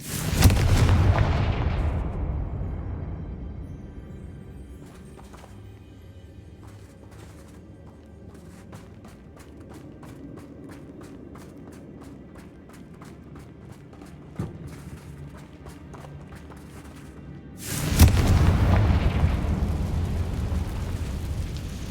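Explosive spell blasts from the Hogwarts Legacy video game: a heavy booming burst at the start, a long rumbling low tail with scattered crackles, then a second loud boom near the end.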